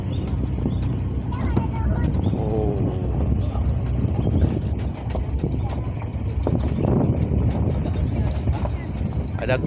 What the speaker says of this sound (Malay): Ada kuda.